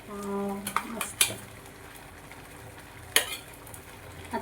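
A spoon stirs and scrapes through palak dal khichdi in a pot, with a few sharp clinks of metal against the pot over a low sizzle; a short hum is heard at the start.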